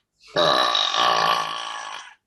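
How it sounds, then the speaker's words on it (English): One long, loud, throaty burp lasting about two seconds rises quickly, then holds and slowly fades, close up and alone with no talk around it. "That's a really good burp."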